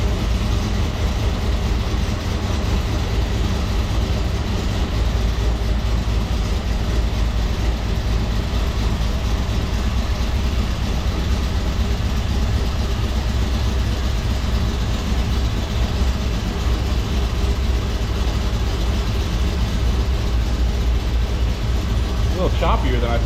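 A 5.3 V8 with a choppy cam idles steadily up close, a dense low rumble running unbroken, while people talk in the background.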